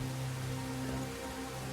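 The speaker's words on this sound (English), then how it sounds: "I'm not a fan of the rain in this game." Rain falls in the Crimson Desert video game, a soft, steady patter on surfaces with a faint constant hum beneath, alone and without voices.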